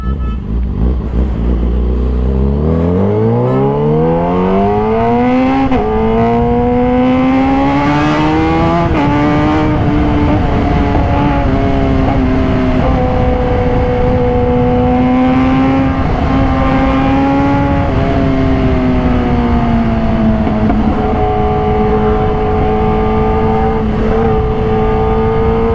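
A 2020 Kawasaki ZX-636 with Ohlins suspension, heard while riding, its engine roaring loud and close, the pitch climbing steeply through the gears, then holding a steady high drone with small shifts in revs over rushing wind.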